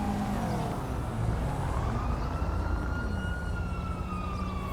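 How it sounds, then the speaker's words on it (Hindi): A fire engine siren in the video game GTA V wails with slow rising and falling sweeps over steady traffic rumble, fairly loud and continuous. "सायरन की आवाज़ आ गई."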